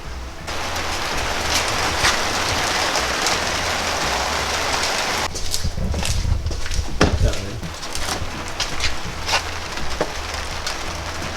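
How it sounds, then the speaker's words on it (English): Heavy nighttime rain with big drops falling, a dense close hiss with scattered louder drop impacts and splashes that stays steady throughout, alone with no talking. "A beautiful nighttime rain. It's like, these are big drops that are falling."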